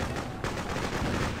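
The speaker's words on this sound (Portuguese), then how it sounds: "O tiro comendo lá dentro." Dense gunfire in the video game Freedom Fighters crackles continuously, a muffled barrage of rapid shots and booms blending into a constant rumble.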